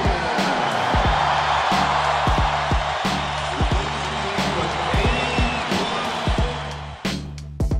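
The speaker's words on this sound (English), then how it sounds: "listen to this crowd for number 8" Basketball arena crowd roaring for Kobe Bryant as he leaves the court on his 81-point night, a loud sustained cheer with repeated heavy thuds underneath and a commentator's voice over it.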